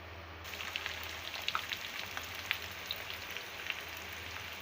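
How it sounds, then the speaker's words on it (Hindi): Onions sizzling in hot oil in a pan for beef korma, a faint, steady crackle with scattered pops throughout, no voices. "तो देखिए व्यूअर्स, हमारा जो ऑयल है वो गर्म हो चुका है। अब हम इसमें प्याज शामिल कर देंगे।"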